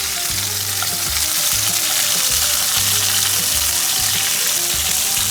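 Prawns searing in a hot risotto pan, a loud, continuous close sizzle with occasional stirring scrapes and no voices.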